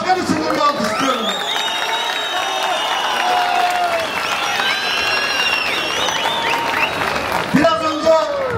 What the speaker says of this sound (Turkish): İşte bu eserin kahramanı belediye başkanımız Necdet Başkan için de alkış istiyorum.